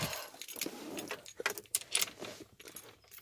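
Keys jangle in a hand beside a Ford F250 pickup, a run of bright metallic clinks and rattles in irregular bursts, close and fairly loud, with no talk.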